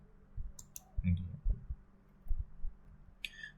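Computer mouse clicking while drafting in CAD software, a few crisp close clicks spaced irregularly over quiet room tone, with soft thumps and faint background noise between them.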